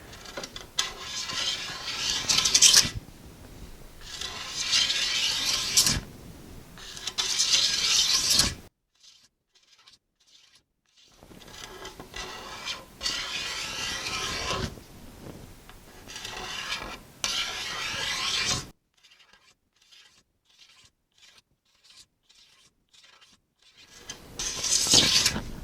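A scraper rasps across the wood of a hollow limb self bow in repeated close, rhythmic strokes, grouped into several bursts with quiet pauses between them.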